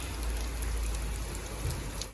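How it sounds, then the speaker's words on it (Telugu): Hail and rain fall on a morning in Derby, a dense, even patter of strikes holding steady before cutting off abruptly. "సో ఆ నెక్స్ట్ డే మార్నింగ్ ఇలా రాళ్ళ వర్షం పడింది"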